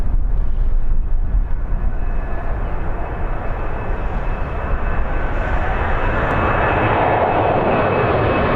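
An airliner taxiing at Birmingham airport makes a loud, steady jet engine roar with a constant whine that holds unbroken throughout.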